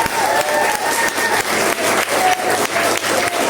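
Dense, steady applause from a crowd at a youth community assembly and leader election in Kalisari, loud and continuous clapping filling the room for a few seconds.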